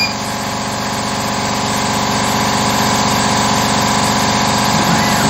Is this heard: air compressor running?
yes